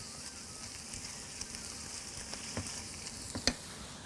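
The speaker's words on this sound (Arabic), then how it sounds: "بس الصوص ده بقى هخليه كده يغلي حاجة بسيطة" A sauce with caramelized onions simmers in a pan, giving a low, steady sizzle and bubbling close by, with a few faint pops and clinks and no talk.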